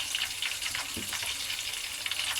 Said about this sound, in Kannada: ಈಗ ಇದು ಹಸಿ ವಾಸನೆ ಹೋಗೋ ಥರ ಫ್ರೈ ಮಾಡ್ಕೊಳ್ಳೋಣ